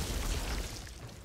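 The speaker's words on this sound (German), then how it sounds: "Die Explosion ist schon ganz geil." Explosion in the video game Outriders, a brief, muffled low boom that swells and fades within about a second.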